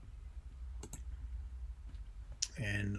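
Computer mouse clicks while a drawing tool opens on screen, two quick sharp clicks followed by a fainter one, then a voice starts talking at the end.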